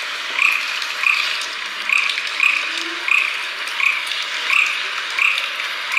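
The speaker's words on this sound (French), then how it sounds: "Vous attendez le bruit des crapauds là." Toads croak in a steady, evenly spaced rhythm, about eight calls repeating at close range, with no other sounds around them.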